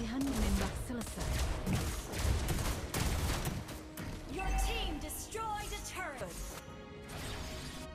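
Sharp sniper gunshots from Lesley in a video game crack out, several spaced blasts over a busy mix of music, effects and a voice speaking.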